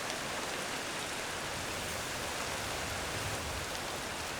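Steady, dense summer rain shower pouring down in a continuous hiss, even and unbroken from start to finish.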